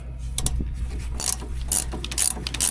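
A wrench ratchets while threading a bolt on a cotton harvester during a Texas harvest: several short bursts of close metallic clicking over a steady low background hum, with no voices.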